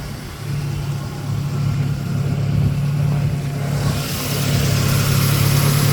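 The engine of a 1984 Volvo 240 with a four-speed manual and overdrive runs steadily under the open hood, a close, continuous low hum with a faint rise in level partway through.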